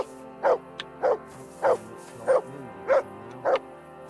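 A dog barks in the video game Kingdom Come: Deliverance II, six evenly spaced, loud single barks about every half second over a steady low game ambience.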